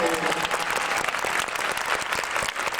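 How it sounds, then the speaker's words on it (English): A convention panel audience bursts into loud, dense applause for a guest's wife, a full crowd clapping continuously and close. "Give her a big applause."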